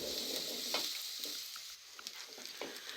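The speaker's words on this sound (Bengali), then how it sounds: "বড় এলাচ 3টি দিয়ে আমি গরম মশলা এবং পেঁয়াজ কুচিগুলো ব্রাউন কালার করে ভেজে নেব।" Chopped onions with whole cardamom and garam masala fry in oil in a pan for a Bangladeshi alu ghati, a soft close sizzle broken by light intermittent stirring scrapes, with no voices.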